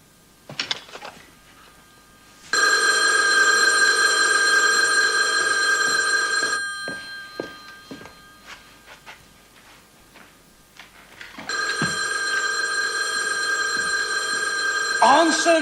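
Two long bursts of a scrambler telephone bell, loud and close, separated by a pause in which people talk and move about.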